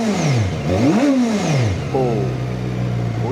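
A ZXMOTO 500F motorcycle engine revs up and down in several quick sweeping bursts, then settles into a steadier higher drone, loud and close with no talking.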